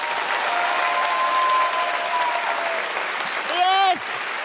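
Dense applause from a theater audience fills the room steadily, with a whooping shout rising out of the crowd near the end.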